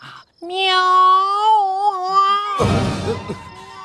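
A long, wavering, drawn-out cat yowl, loud and close, cut off by a sudden rough, noisy burst.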